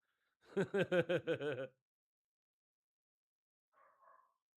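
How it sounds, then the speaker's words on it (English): A dog barks about six times in a quick, fairly loud run, followed a couple of seconds later by a faint, short pair of muffled sounds, with an otherwise silent background. "I hear my dog barking in the background."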